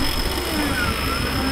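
Electric XP 9.5 winch motor with plasma rope pulling an off-road jeep at a Sentul, Bogor trail event, a steady, loud mechanical whine and hum running continuously with no pauses.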